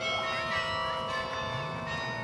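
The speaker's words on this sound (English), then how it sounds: "Just now having a recital played on the bells." Carillon bells ringing a recital at the 75th anniversary of the Bathurst carillon, with sustained, overlapping tones heard steadily from a distance outdoors.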